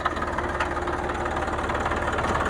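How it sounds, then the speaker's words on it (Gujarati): A steady, rumbling tractor engine idles continuously with a low, even chug and no gaps, close by and fairly loud. "તો કરીનાબેને ટ્રેક્ટર સ્ટાર્ટ કરી દીધું છે"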